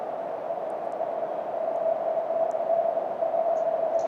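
Filtered noise with the resonance raised, so a steady pitched tone sings through a soft hiss, continuous and even, with faint high blips and no voices.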